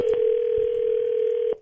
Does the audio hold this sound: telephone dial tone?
yes